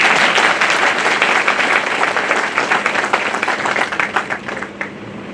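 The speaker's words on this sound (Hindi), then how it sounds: "तो अपने लिए बजाओ ताली" An audience of law students claps steadily at a talk, a dense burst of applause that thins toward the end into more scattered individual claps.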